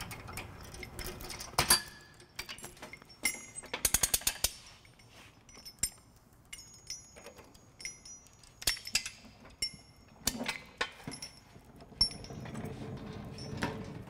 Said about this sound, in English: we have our torque wrench here with our 19 millimeter socket, and we're just gonna go ahead and torque all six bolts down.